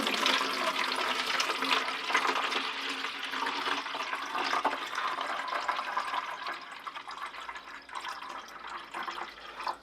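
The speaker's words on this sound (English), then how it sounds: "There's the watering can. Put a little bit of water in there." A watering can pours water onto dahlia tubers set in compost in a tray, a continuous close splashing trickle that stays fairly even for several seconds and tapers off at the end.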